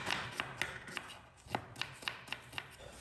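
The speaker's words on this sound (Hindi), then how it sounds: "अब मैं अपने प्याज काट लूं।" Knife chopping onions on a cutting board for an aloo murghi curry, a string of crisp, evenly spaced taps heard close and alone, with no talk.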